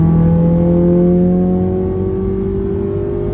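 Honda Civic FN2 engine revving in the wrong gear, a steady close droning whine whose pitch slowly climbs, heard from inside the car with no talk.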